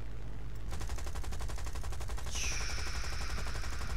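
In the War Thunder video game, an aircraft machine gun that has been jamming fires in a rapid, continuous stream of close, evenly spaced shots, with a high whine rising halfway through.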